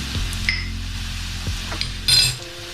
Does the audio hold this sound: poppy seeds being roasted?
yes